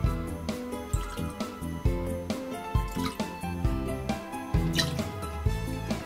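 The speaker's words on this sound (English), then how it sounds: "Then add 4 tablespoons of lime juice." Lime juice dripping and splashing into a green Thai chicken curry, soft repeated drips over steady background music.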